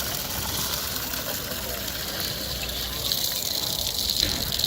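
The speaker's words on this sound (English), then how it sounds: "the female would approach the fountain, fill up the cup, and wash her hands." A steady outdoor rush of running water pours from a public fountain at the Western Wall in Jerusalem as a two-handled cup is filled for ritual hand washing, with faint background murmur.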